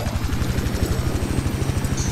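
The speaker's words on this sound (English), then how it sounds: "Oh, it's an attack chopper." An attack helicopter in Battlefield 4 thrums close by, its rotor chopping in a fast, even pulse under a steady engine whine.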